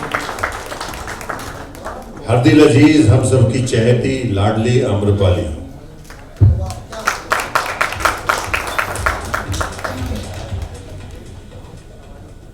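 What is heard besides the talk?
audience clapping for actress at launch event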